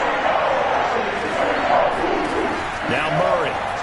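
Steady stadium crowd roar at an American football game, a dense continuous wash of many voices that swells slightly at moments, with a broadcast commentator talking over it.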